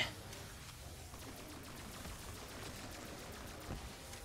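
Continuous gunfire from a weapon in Call of Duty: Black Ops 3 Zombies on the Der Eisendrache map, a steady, fairly faint stream of rapid shots lasting throughout against a Panzer enemy.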